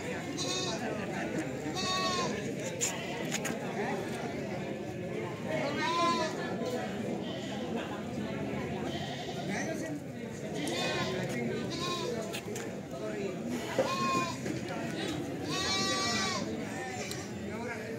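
Jawa Randu crossbreed goats bleat again and again, with several loud, wavering cries spread across a farm pen. People talk in the background.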